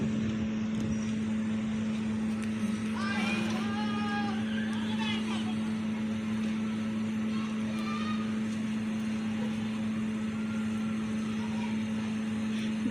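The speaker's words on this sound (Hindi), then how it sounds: "सिलाई की आवाज़" A sewing machine stitches the side seams of a baby shalwar kameez, giving a steady, constant motor hum that runs the whole time while someone speaks briefly over it early on.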